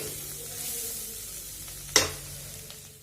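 Food frying in a pan while a vegetarian cabbage paratha is cooked, made without garlic or onion. A soft, steady sizzle fills the clip, with one sharp clink or spatter burst near the middle.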